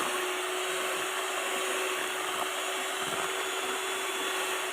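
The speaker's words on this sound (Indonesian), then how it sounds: "Jadi pastikan kalian mixer dengan rata." An electric mixer whirs steadily through cake batter for a checkerboard sponge cake, a constant high motor hum with no pauses.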